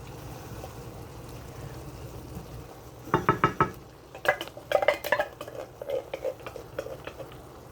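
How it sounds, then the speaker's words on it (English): Spaghetti sauce goes into a pan of cooked meat and is stirred for a Filipino-style sweet spaghetti. A quiet stretch gives way to clattering spoon-against-pan scrapes and knocks, loudest in short bursts. "we're going to add in our spaghetti sauce"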